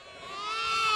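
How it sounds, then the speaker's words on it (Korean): A mother sheep that recently gave birth, on a farm in Siberia's Altai mountains, gives one sustained, wavering bleat up close, growing slightly louder through its second. "출산한 지 얼마 안 된 어미 양들입니다."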